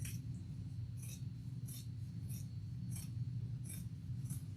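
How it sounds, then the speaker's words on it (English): Scissors or pinking shears cut fabric for a chevron add-on to a shoulder bag: about seven crisp, evenly spaced snips over a steady low hum, close and clear. "You can use pinking shears for this, scissors, whatever you have available."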